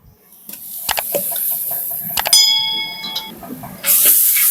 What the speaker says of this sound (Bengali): এবার দিয়ে দেবো রসুন বাটা